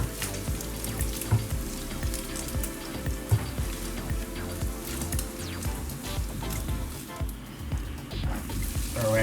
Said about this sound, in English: Throw in my mushrooms and onions, let those simmer down.